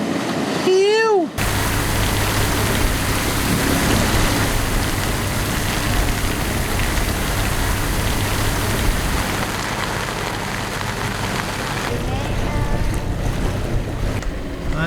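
Heavy squall rain pours down in Indonesia as a steady, loud roaring hiss mixed with gusting wind. A short vocal sound comes first, then the downpour runs on without a break.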